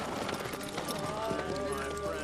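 Horses gallop in a film scene set in 1880s New Mexico, with steady clip-clop hoofbeats running continuously under a busy, dense soundtrack mix.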